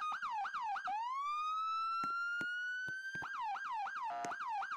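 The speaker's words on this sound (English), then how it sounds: "I hear a siren." A loud police siren in a video game wails in rapid yelps, switches to a long rising tone, then returns to fast yelping, with a few clicks over it.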